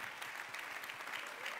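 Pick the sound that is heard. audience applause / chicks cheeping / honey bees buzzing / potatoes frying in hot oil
audience applause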